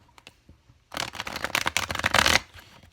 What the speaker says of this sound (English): Nice shuffle, guys.